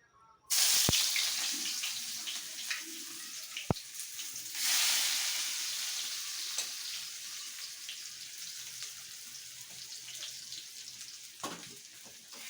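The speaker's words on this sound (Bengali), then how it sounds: "এখন আমি পেঁয়াজ তেলে দিব" Chopped onion hits hot oil for Bangladeshi polau and sets off a loud, steady sizzle that starts abruptly, swells again partway through, then settles into a continuous frying hiss with a few faint clicks.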